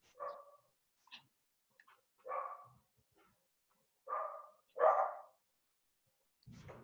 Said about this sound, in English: Anyone hear dogs?